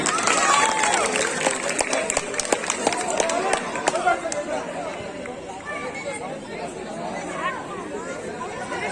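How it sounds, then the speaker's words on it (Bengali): Crowd at a Victory Day prize-giving ceremony cheers and claps for a biscuit-race first-place winner, a busy wash of chatter and scattered sharp claps, loudest in the first few seconds, with voices talking throughout. "আলিফের জন্য জোরে একটা করতালি।"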